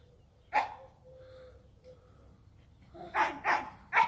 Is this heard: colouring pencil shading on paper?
no